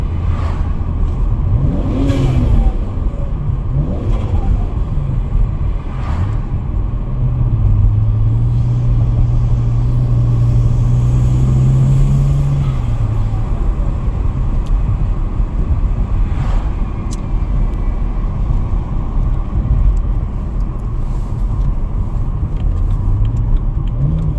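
A BMW 335i with the N54 engine and aftermarket inlets gives a steady, moderately loud engine rumble with a slight rise in pitch midway. The drone runs continuously throughout, with no talking.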